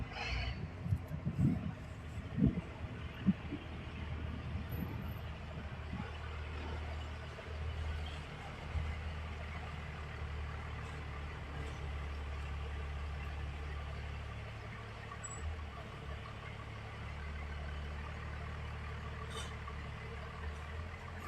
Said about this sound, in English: These dudes parked right in front of my solar panel with their big loud diesel truck.